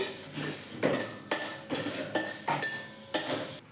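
Fennel, cumin and coriander seeds dry-roasting in a wok, stirred with a series of about eight clinking, scraping strokes at a steady rhythm, close and clear, with no talking.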